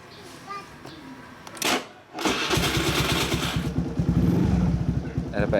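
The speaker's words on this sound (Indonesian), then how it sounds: "ini coba kita nyalakan motornya ya" A Suzuki Address 110cc scooter engine cranks briefly and then catches, settling into a loud, steady close-up idle with a fast rhythmic putter that carries on to the end.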